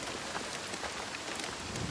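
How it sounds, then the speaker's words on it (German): Steady rain patters on surfaces in the video game Hellblade II, a dense, even hiss of drops that continues throughout with nobody speaking. "Es regnet."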